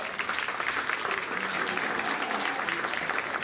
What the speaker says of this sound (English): Let's go ahead and give them all a big round of applause.